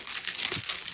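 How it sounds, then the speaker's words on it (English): Plastic packaging crinkles while a Hobonichi 2023 planner is unboxed, a brief, soft rustle of crumpling wrap heard close up on its own. "Sorry for the crinkling."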